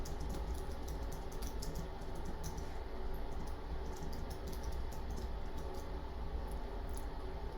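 Fast keyboard typing taps along continuously over a dense, steady background hum, with no voices.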